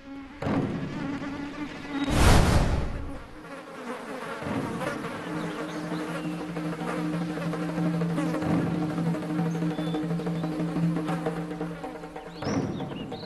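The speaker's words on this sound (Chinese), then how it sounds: "苍蝇聚于死者发间，这说明死者发丛间定有血腥。" Flies buzz around a corpse, a steady insect drone with intermittent louder passes and a couple of sharp bursts, fairly faint, with no talk.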